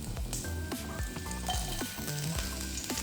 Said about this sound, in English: So at this point, I'm going to add some onion to it.